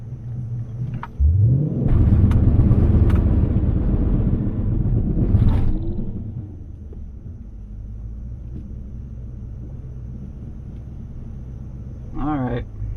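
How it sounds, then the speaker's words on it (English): Cammed Dodge Challenger R/T running a hot lap against a Camaro SS, a loud deep engine roar that builds, holds, then fades to a lower steady rumble, with wind buffeting and a short surge near the end. "we are literally hot lapping and going right again against this Camaro SS"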